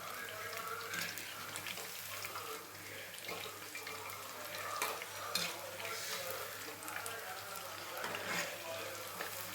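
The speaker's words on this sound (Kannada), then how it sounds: "ಇದನ್ನು ಚೆನ್ನಾಗಿ ಸ್ವಲ್ಪ ರೋಸ್ಟ್ ಮಾಡ್ಕೊಬೋಣ" Chicken kebab mixture roasting and frying in a pan at home, a continuous soft sizzle with occasional stirring scrapes, steady and close at moderate level.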